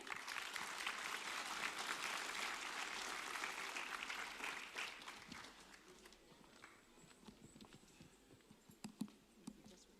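An audience claps to welcome a speaker at a Karenni National Day gathering in Australia, a dense, fairly distant burst of applause that fades after about five seconds into scattered claps and room noise.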